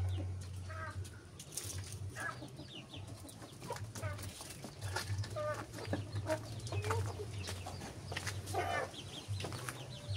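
A mother hen and her chicks cluck and peep close by in a warm, humid yard, repeated soft clucks and high chirps over a low steady hum.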